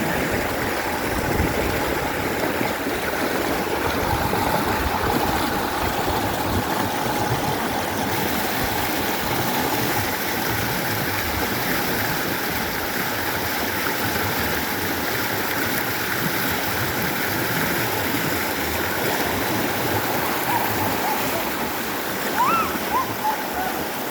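River water in Tiaong, Quezon rushes and burbles steadily, a close, continuous broadband flow with a few splashy bursts near the end.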